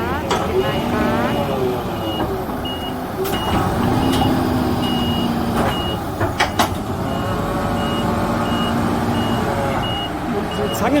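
A container truck with air suspension runs loud and close, a steady engine rumble under repeated high reversing beeps, with a few sharp clanks and hisses as the load is lifted.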